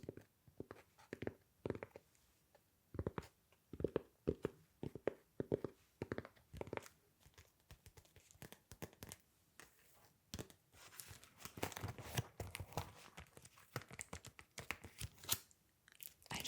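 Old photo album pages with plastic sleeves being turned, close crinkly crackles and flaps in irregular bursts, denser and busier toward the end, with no speech.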